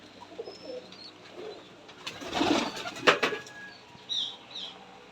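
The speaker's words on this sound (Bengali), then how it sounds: "ভাইয়ের যে কবুতরগুলো দেখছি মাশাল্লাহ অনেক সুন্দর" Giribaz pigeons at a Rajshahi pigeon farm make soft cooing and a few high chirps, with a rustling burst like wing flaps in the middle and distant birds calling around them.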